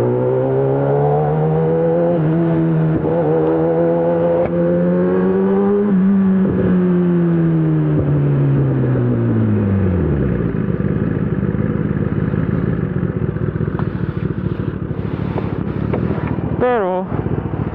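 A Kawasaki ZX-10R 1000cc motorcycle engine running loudly and close, its tone rising and falling through revs before settling into a rough steady roar, with wind buffeting and a voice talking over it.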